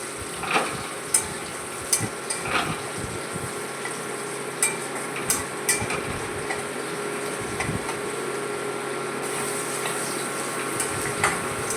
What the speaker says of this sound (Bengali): কারি পাতা দিলাম। হালকা হাতে নেড়ে চেড়ে নেব।